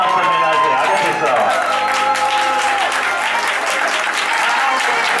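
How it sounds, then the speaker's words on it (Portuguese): Loud, dense applause and clapping from a crowd celebrating a birthday after a church service, steady throughout, with voices and cheering mixed in. "Uma salva de palmas."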